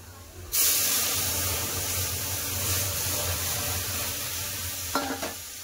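A sudden loud hiss as boiled lentils hit frying onions in hot oil, then a steady sizzle with a short stirring clatter near the end.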